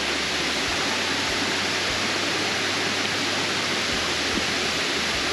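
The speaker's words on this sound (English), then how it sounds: "Well, we made it to the first waterfalls." Steady, loud rushing roar of a waterfall in the Brazilian jungle, a dense unbroken wash of falling water heard up close with no voices.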